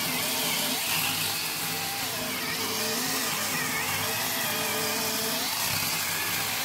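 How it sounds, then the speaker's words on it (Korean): An electric chainsaw cuts firewood outdoors, a continuous loud whining buzz with slight pitch shifts as the blade bites, running without pause. "전기톱으로 장작 패고 있습니다."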